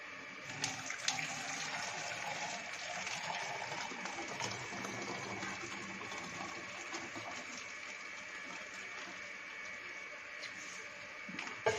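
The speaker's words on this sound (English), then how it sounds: "Now we fill the bottle with the hot water." Hot water streams steadily and continuously into a plastic bottle, a constant rushing pour that lasts throughout with no talking.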